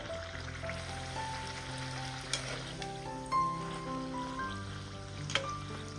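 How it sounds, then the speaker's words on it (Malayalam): Snack batter balls deep-frying in hot oil until golden, making a soft, steady sizzle with faint bubbling and a couple of brief stirring clicks, set under quiet background music. "ബാക്കിയിരിക്കുന്നതെല്ലാം ഇതുപോലെ തന്നെ നമുക്ക് ഫ്രൈ ചെയ്തെടുക്കാം"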